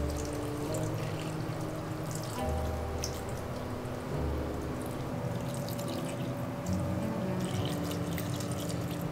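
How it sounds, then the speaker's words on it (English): Water being poured onto a potted houseplant, a steady close trickle and soft splashing that runs continuously without any talking. "For now, let's go ahead and water her."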